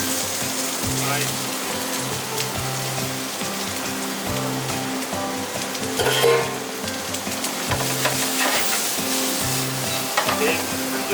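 Green and yellow sweet peppers fry in oil in a pan, giving a steady close sizzle with bursts of stirring and a rhythmic low thumping underneath.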